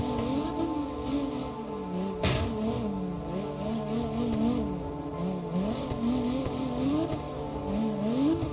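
Game engine of a 900 horsepower BMW E36 drifting in CarX Drift Racing Online, a sustained buzzy whine rising and falling with throttle, plus a brief tire squeal, with no talking.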